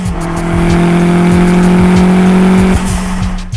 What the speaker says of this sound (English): the engine that's hissing and whistling and huffing and puffing right behind your head